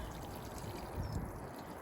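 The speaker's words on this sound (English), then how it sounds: "Give it a good watering in" Harvested rainwater pours onto a potted plant, a steady, close splashing trickle that swells briefly midway, with no talking.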